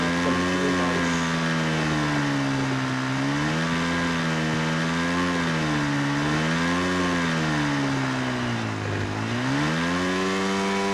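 Motorbike engine from the PUBG video game, a steady droning hum whose pitch rises and dips as the rider speeds up and slows down, continuous and fairly loud throughout with no talking.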